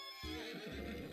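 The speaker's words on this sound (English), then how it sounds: "I might have scared the horse." A horse gives a sudden, faint whinny in a KFC dating sim video game, a single drawn-out neigh that starts abruptly and trails off over about a second.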